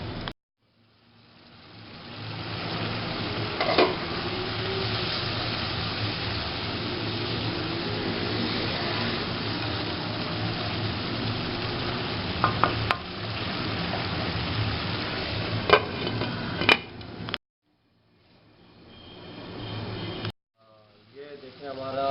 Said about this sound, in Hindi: ढकना दे देना है, ताकि हमारे ये टमाटर गल जाए इसमें और मसाला अच्छी तरह भुन जाए